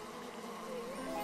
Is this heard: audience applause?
no